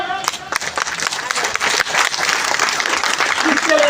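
Loud, dense applause from a large crowd, sustained throughout and growing slightly stronger toward the end.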